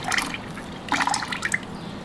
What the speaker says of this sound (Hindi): आपको 10 से 15 मिलीलीटर इसे लेना होगा और इसे 1 लीटर पानी में ऐड ऑन कर दीजिए।